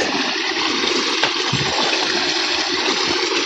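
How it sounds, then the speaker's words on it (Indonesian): Murky, cloudy water flowing in a stream through forest near a banana plantation, a steady broadband rush with small gurgles, continuous and fairly close, with no talking. "ini ada air mengalirnya itu, tapi airnya nggak jernih, keruh"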